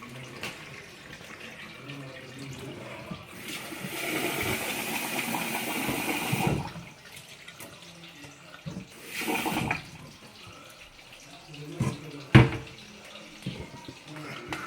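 Tap water runs and splashes in bursts while raw chicken is washed for poulet yassa, the flow starting and stopping several times, with a sharp clatter near the end.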